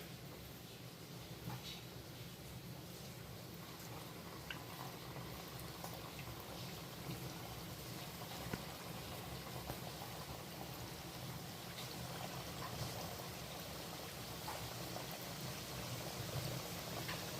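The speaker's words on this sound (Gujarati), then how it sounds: "સમોસાને હવે 15 મિનિટ થઈ ગઈ છે અને સુકાઈ ગયા છે અને તેલ પણ ગરમ મૂકી દીધેલ છે. તો ચાલો તળી લઈએ." Aloo samosas deep-frying in a pan of hot oil over low heat, a steady dense crackle and bubbling hiss that runs evenly throughout, close and moderately quiet.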